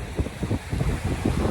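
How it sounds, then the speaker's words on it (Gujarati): Seashore wind buffets the microphone in steady low rumbling gusts, with surf faintly beneath, loud and close throughout with no talking. "એવો મસ્ત મજાનો પવન આવે ને દોસ્ત."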